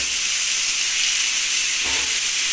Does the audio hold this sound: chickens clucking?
no